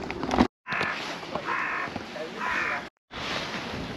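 Crows cawing at the seaside near a causeway on the UK coast, three distinct harsh caws spaced about a second apart over soft wind and background noise.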